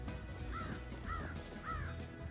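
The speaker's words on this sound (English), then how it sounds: "Hello, Crow." A crow gives three evenly spaced caws at a moderate distance over a steady background hum, in a snowy farmyard by a barn.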